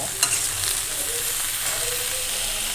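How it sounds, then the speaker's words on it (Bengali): Vegetables frying in a hot pan for khichuri, a loud, steady close-up sizzle with a brief stirring clatter at the start and a continuous hiss throughout. "এখন হলো আমি এই সবজি ভাজি করবো"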